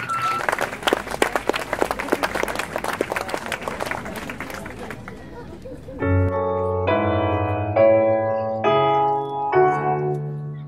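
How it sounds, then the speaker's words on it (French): An audience at a singing competition final claps briskly for about six seconds, the claps close and dense, before a piano-like musical accompaniment starts and carries on alone. "Merci d'applaudir, Alex!"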